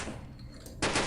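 Thompson submachine gun in Return to Castle Wolfenstein firing a loud, rapid burst that starts abruptly near the end, after a moment of quieter gameplay sound.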